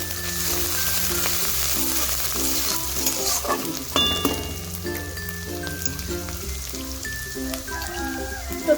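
Neem flowers fry in oil with onion paste for an okra and neem dish, producing a loud, crackling close-up sizzle with occasional spoon clinks and scraping as the mixture is stirred, continuous throughout.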